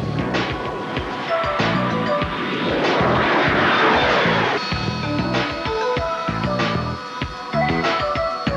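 A single-seat British fighter jet developed for the Royal Air Force and Royal Navy, from the Desert Storm era, roars loudly and continuously, its engine swelling toward the middle before easing back into a steady rumble.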